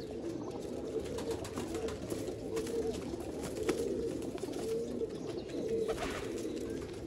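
A flock of about thirty pigeons offered for sale coos steadily in a low, continuous murmur, with overlapping soft calls and faint rustling throughout.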